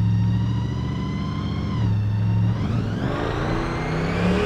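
The engine of a 1956 Ford pickup truck idles with a steady, buzzy drone, then is blipped on the accelerator so its pitch climbs sharply, close and loud with no talking.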